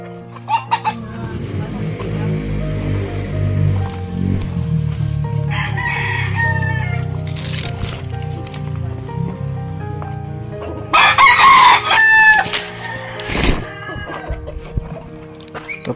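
Farmyard chickens cluck steadily under rural chatter, with a couple of sharp, close rooster crows breaking through near the end amid mixed background noise.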